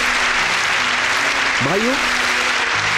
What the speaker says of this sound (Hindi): यीशु के लिए तालियां हो जाए।